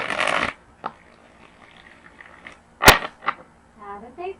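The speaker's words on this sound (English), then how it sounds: "One more shuffle." Tarot cards riffle-shuffled close by in a dense burst at the start, followed by a few scattered snaps, taps and soft card clicks in a quiet room.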